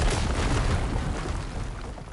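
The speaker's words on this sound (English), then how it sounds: "An explosion?" A distant explosion rumbles in Horizon Forbidden West, a sustained low boom with a broad roaring tail that slowly fades over about two seconds.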